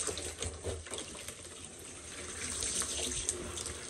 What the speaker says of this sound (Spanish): Botarle esa agua, mira, para que quede agua limpia.